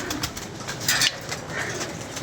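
Pigeons cooing up close on a rooftop, soft repeated throaty calls over a constant hiss, with a brief flutter of wings in the middle.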